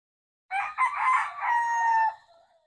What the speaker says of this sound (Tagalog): Gary Gilliam Roundhead ang broodcock